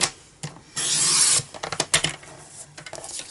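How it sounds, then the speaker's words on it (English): A paper trimmer slices down a long strip of cardstock for a handmade birthday card, giving a steady rasping cut followed by several short scraping strokes and clicks, close and clear with no talking. "I'm just going to trim the piece down."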